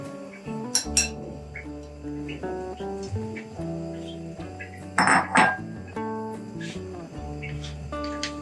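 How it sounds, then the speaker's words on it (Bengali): A spoon stirs grated carrot into warm milk in a metal pan, with repeated metallic clinks and scraping knocks against the pan at close range, steady and uneven in rhythm, with no talking. "গাজর আর দুধ খুব ভালো করে মিশিয়ে নিব"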